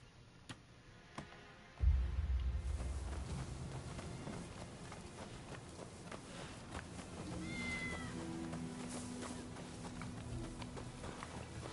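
A cat meows in the video game Rise of the Ronin, with a few short mewing calls over low background game ambience and rumble.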